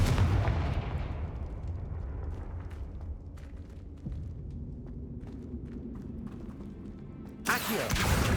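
The Confringo blasting spell from Hogwarts Legacy, cast inside a tomb, opens with a heavy booming blast whose rumble slowly decays. A second sharp burst hits near the end.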